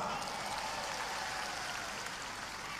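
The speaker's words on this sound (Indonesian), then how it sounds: "kita berikan tepuk tangan kepada Gus Miftah" Large crowd of worshippers applauding Gus Miftah at an Isra Mi'raj gathering, a broad even wash of clapping from many hands, distant and fairly faint.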